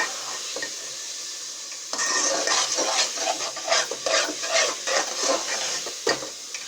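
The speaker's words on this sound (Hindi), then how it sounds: "तो हम अच्छे से इसकी भुनाई कर लेंगे।" Carrot halwa being stirred and roasted in ghee, a spoon scraping and clattering against the pan in an irregular rhythm over a steady soft sizzle, close and fairly loud.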